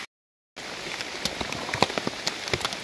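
Rain patters steadily during mushroom foraging outdoors in wet weather, with scattered close drops tapping on a surface after a brief silent start; no talking.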